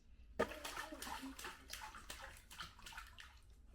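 A little girl splashes in bathtub water at home, making soft sloshing and splattering sounds that are continuous but faint and close, with no talking.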